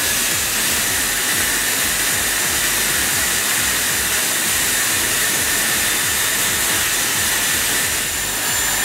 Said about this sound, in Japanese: 前側から乾かします。